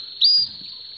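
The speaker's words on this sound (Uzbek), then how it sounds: "Mana bu 5 ta kanareka jo'jog' chiqqan." Canary chicks give a single short, high, thin chirp, close and clear against near silence.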